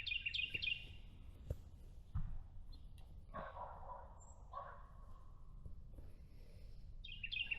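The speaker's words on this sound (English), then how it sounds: "There's the woodpecker." Birds call and chirp in the woods at evening, with a woodpecker among them; bright repeated chirps come at the start and end, plus scattered faint calls over quiet outdoor background.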